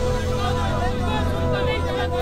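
Crowd hubbub in a tense dubbed drama scene, a dense, steady wash of many overlapping voices murmuring close around, with no single speaker standing out.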